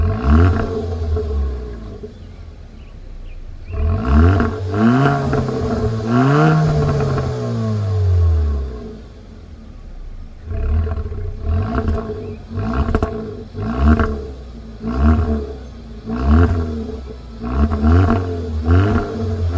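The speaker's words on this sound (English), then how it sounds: "give you guys a nice rev so that you can get an idea of what the engine sounds like" A 2023 Kia Forte GT engine, warmed up, revs several times, with rising and falling harmonic sweeps and a long swell near the middle, then a run of short repeated blips, loud and close with no talk.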